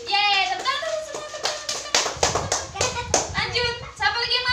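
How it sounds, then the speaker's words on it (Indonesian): Young children in an early-years classroom clap their hands together, a quick burst of claps mixed with bright, excited children's voices and an adult's talk. "Yeay, tepuk tangan untuk semua"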